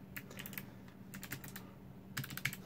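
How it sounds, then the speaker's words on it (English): Typing on an Anidees Prismatic wireless mechanical RGB keyboard in wired mode, quiet close clusters of crisp key clicks in short bursts with brief pauses between them. "And I'm typing away."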